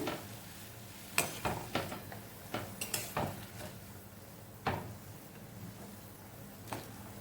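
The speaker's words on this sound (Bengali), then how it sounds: "আবারও এগুলোকে ভালো করে মিশিয়ে নিচ্ছি।" Maggi noodles being stirred in boiling water in a pot, with faint scattered clinks and scrapes of the utensil against the pot over a low, quiet background.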